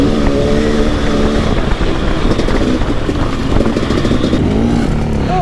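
A dirt bike engine drones loud and constant while riding through a canyon in Nelson, Nevada, with wind buffeting the microphone and the motor's pitch shifting slightly as it runs.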